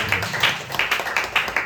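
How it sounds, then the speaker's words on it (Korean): Applause at a high school youth Sunday worship service in a church: a burst of uneven clapping from a small group, with irregular sharp claps close by and no speech over it. "큰 박수 하겠습니다."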